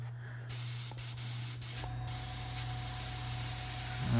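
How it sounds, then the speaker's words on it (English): Airbrush spraying Pro Acryl Prime White primer, close bursts of hissing air that start and stop a few times, then hold as one long continuous spray. "we can see that spraying"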